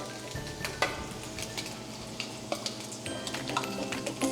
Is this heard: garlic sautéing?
yes